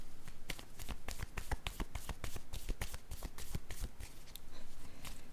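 A deck of cards is drawn and shuffled close up, with rapid crisp riffling and flicking snaps in a steady run, fairly quiet, with no talking.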